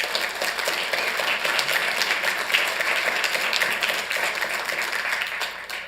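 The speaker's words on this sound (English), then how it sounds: "Let's give a round of applause." Sustained audience applause at a city council meeting, thanking festival board members. Dense, even clapping fills the room for several seconds before easing slightly at the end.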